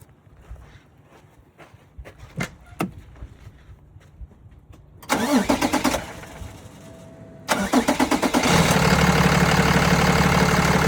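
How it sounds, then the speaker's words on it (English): A 2012 Peterbilt container delivery truck's diesel engine cranks in two starter bursts after some quiet clicks, then catches and settles into a loud, steady close-up idle. "Go ahead and start the engine."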